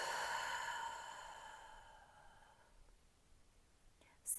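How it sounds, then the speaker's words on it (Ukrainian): A long, slow exhale during a Pilates exercise, emptying the lungs fully: a soft, breathy whoosh close to the listener that fades gradually over a few seconds into near quiet, ending with a brief sharp noise. "все повітря з себе видихаємо"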